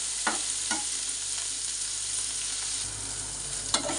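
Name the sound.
chopped onion frying in pan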